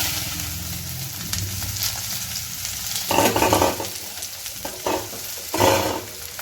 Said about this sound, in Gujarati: હવે આપણે એમાં ભીંડો એડ કરી દઈશું.